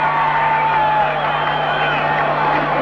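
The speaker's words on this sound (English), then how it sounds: "The crowd back in the ballgame." Stadium crowd noise at a Colts versus Raiders football game, a dense, steady roar with cheering swelling throughout, loud and continuous with no clear individual voices.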